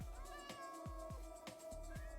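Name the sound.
cat meowing in the video game Minecraft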